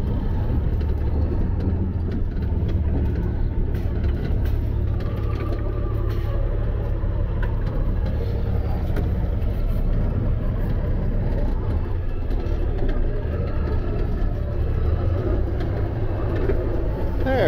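A car pulls off and turns around in a snowy snowplow turnaround, its steady engine and road rumble filling the scene as a continuous, close, low drone, with faint voices barely present underneath.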